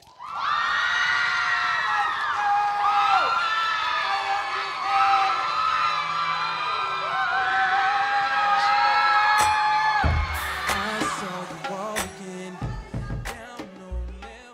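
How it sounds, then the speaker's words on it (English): A poetry slam audience cheers and whoops for a poet coming to the stage. Loud shouts and high cries run together for about ten seconds, then fade into scattered calls and brief noises. "please give a round of applause for Faith"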